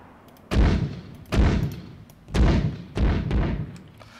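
Artillery firing in ARMA 3, four heavy, booming reports in irregular succession, each with a deep thud that rolls off into a fading tail, loud and fairly close with little else around them.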